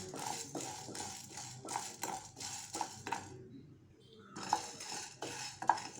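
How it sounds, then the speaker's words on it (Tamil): A spoon stirs dry sago (javvarisi) roasting in a pan, making repeated close metallic clinks and scrapes in uneven bursts, with a short quieter pause midway. "பான் அடுப்புல வச்சு முதல்ல நம்ம எடுத்து வச்சிருக்கிற ஜவ்வரிசியை வறுத்து எடுத்துக்கலாம்."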